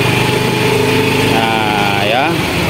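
A motorcycle engine, on a bike with a fault that makes it roll forward without throttle, revs as the throttle opens, a close, loud buzzing drone that climbs sharply in pitch near the end while someone talks.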